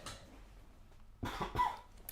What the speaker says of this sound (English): I do have a cough and a cold